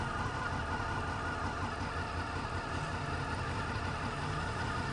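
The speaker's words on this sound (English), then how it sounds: "it's a V motor, but it just has this stock car sound" Honda VFR800 motorcycle with a V engine and stock exhaust runs steadily, a continuous even engine hum heard up close on a morning commute, with a constant rumble and no talking.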